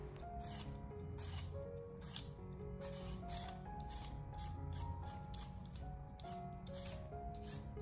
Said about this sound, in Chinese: 用削皮刀把它的外皮削除干净